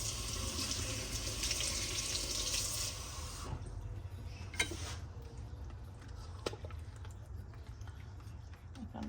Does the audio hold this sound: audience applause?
no